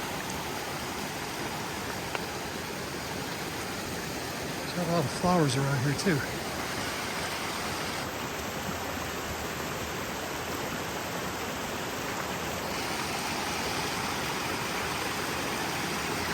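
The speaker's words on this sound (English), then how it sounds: "Well, here's another really good flowing stream." Mountain stream running full after rain, flowing near burnt forest on a trail loop from Forsee Creek up San Bernardino Peak, a steady broadband rush throughout with someone briefly talking in the middle.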